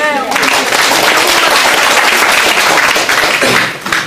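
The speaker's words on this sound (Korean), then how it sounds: "우리 어머니께도 큰 박수" A crowd of local residents in Gangjeong gives a mother a big round of applause, dense sustained clapping that swells quickly, holds loud and steady for about four seconds and then starts to taper.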